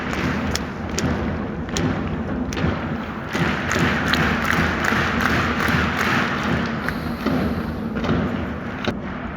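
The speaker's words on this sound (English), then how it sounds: "a lot of clapping and a lot of drumming" FC Tokyo supporters drum and clap steadily through a large crowd at the Levain Cup final in Tokyo's new Olympic Stadium, with no singing allowed; sharp thuds punctuate a dense, continuous roar of stadium noise.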